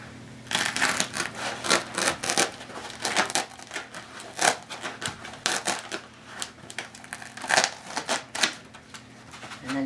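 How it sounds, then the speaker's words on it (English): A razor knife cuts through a closed-cell foam pool noodle in a quick series of close, scratchy rasping strokes, uneven in rhythm, with no one speaking. "You can use a box knife, a razor knife to cut"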